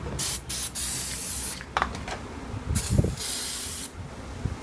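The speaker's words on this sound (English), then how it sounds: "Spray them off a little bit in here." Several loud bursts of brake cleaner aerosol spray hiss in short and longer blasts on the brakes of a 2008 Lexus RX350, separated by brief pauses and a few clanks, close up.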